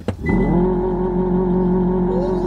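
A Hyundai Ioniq 5 N launches hard with launch control: a brief thump, then a loud, sustained electronic engine-like drone that holds steady and climbs slightly near the end.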